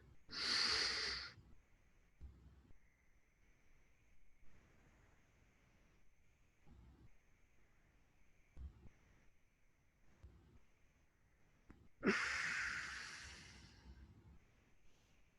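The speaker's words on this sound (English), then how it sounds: "Last one, take a deep breath." Two forceful, deep breaths during a Tummo breathing exercise, one at the start and one near the end, loud and close, with long quiet stretches of faint breathing between them.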